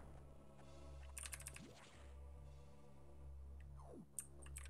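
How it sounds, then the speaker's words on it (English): Faint clicking mechanical keyboard keystrokes in a few quick bursts over a steady low hum, with a couple of soft whooshing sweeps from Metroid Fusion gameplay in between. "Sorry if my keyboard's a bit loud. I have a mechanical one."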